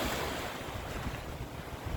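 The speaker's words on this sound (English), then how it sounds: "I'm just going to leave it to the waves." Big ocean waves crash and wash along the shore, a loud, dense roar mixed with heavy wind buffeting, with no voices.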